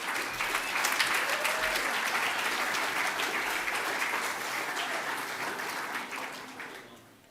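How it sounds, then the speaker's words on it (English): An award ceremony audience applauding, a steady dense wash of clapping that holds throughout and eases off slightly at the end, with no voices over it. "Keep applauding, it makes me feel less awkward"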